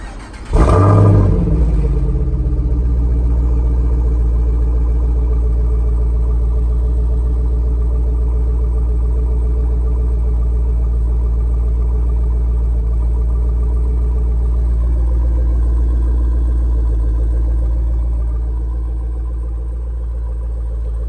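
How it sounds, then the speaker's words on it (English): A 2018 Jeep Grand Cherokee Trackhawk with an S-Type exhaust fires up from cold with a loud, sharp burst, then settles into a steady, deep, rumbling idle that stays strong and close, easing slightly near the end. "This will be the first cold start with the S-Type that you guys are hearing."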